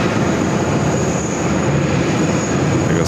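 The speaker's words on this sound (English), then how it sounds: "There goes Charlie. Gulf Air Flight 91 coming in from Bahrain." A Gulf Air passenger jet lands at JFK airport, arriving from Bahrain, with a loud, steady broadband engine roar that stays close and constant throughout, with no voices.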